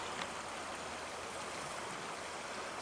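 A stream flows and splashes in a steady, continuous rush of water, even and close throughout, with no voices.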